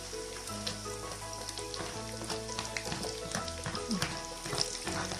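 Onion frying in a pan hisses with a constant close sizzle over several seconds, mixed with occasional small clicks and a soft tonal background.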